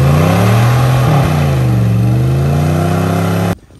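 A Dodge truck engine revs hard and steadily as it drives, loud and close, with the pitch rising and falling before cutting off abruptly at the end.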